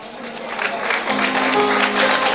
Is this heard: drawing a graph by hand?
no